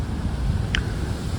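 Wind on a humid morning ahead of Hurricane Milton, a steady low rumble of gusts across the microphone, moderately loud and unbroken, with a faint brief higher tone briefly rising over it.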